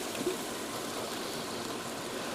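Tomato sauce from two opened 8-ounce cans pours into a beef fajita soup pot, a steady close liquid splash and gurgle running without pause.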